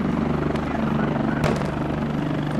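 Helicopter amid a combat battle scene, its rotor and engine drone a steady, loud hum throughout, broken midway by one sharp, brief crack.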